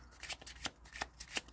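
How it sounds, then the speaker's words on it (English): Tarot cards being riffle shuffled up close, a series of about five quick crisp bursts of fluttering paper clicks spaced evenly over under two seconds. "So this is my Riffle Shuffle."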